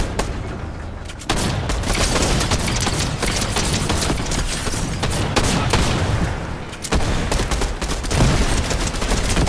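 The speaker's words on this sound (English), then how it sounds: "there's shots everywhere" Dense, continuous Fortnite gunfire from many weapons during a boss fight, rapid overlapping shots and bursts filling the whole stretch, loud and relentless with only brief dips.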